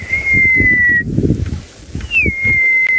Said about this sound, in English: Very faintly in the background I can hear the sounds of baby francolins calling their mums.